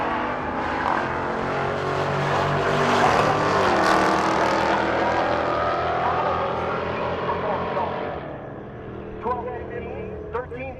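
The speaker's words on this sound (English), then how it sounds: "Again, the 707 horsepower Hellcat motor under the hood." A Hellcat-powered drag car with a 707 horsepower engine launches at a race-week drag strip, its loud sustained roar building and holding for several seconds before fading away as it pulls off into the distance.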